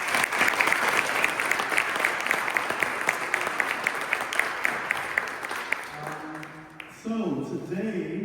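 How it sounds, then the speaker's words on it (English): Steady applause from an audience, dense clapping for several seconds that fades out, followed by a brief burst of musical tones. "So can we just give them a brief applause?"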